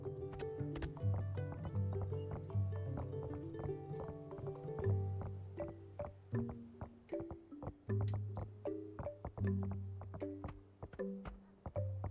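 Haralope mount, a donkey-like, goat-like beast in Towers of Aghasba, galloping with a steady run of soft hoof clip-clops over a sustained musical score for about twelve seconds.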